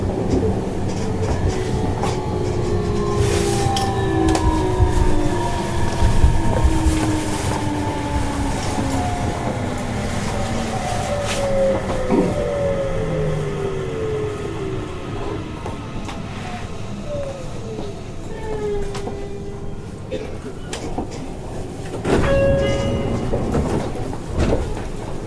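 Seibu 30000 series electric train running between Hon-Kawagoe and Tokorozawa, heard from inside with loud steady rumble, rising and falling motor whine, and rhythmic wheel clatter over rail joints throughout.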